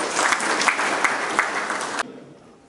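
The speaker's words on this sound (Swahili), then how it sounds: "Pigeni makofi." An audience claps together at a public gathering in Tanzania, a dense, steady burst of applause at close range that stops abruptly and then trails away into quiet room tone.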